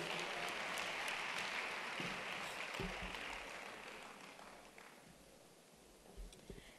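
Audience applause at a women's business conference plenary panel, a steady, moderately distant wash of clapping that gradually fades toward the end, with no one speaking over it.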